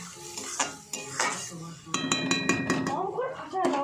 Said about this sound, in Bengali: এবার মশলাটা খুব সুন্দর করে বেশ কিছুটা টাইম দিয়ে আমি ভালো করে কষিয়ে নেব।